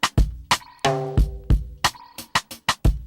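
Live drum groove with a crisp snare hit on beats 2 and 4 and punchy low kicks between, played as a steady loop for a small song about a spider; a short sustained tonal chord rings out briefly in the middle.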